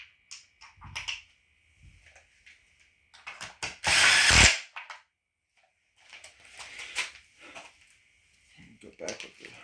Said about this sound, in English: Go back with the ratchet.